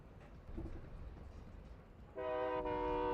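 Train horn in the Warzone 2.0 video game, a steady harmonic blast that starts about two-thirds through and holds loud to the end, following a stretch of quieter in-game ambience.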